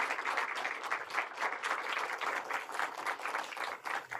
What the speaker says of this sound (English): can we give him a round of applause, please?